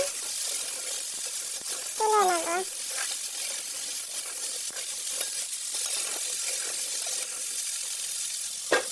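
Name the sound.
pointed gourd and potatoes frying in oil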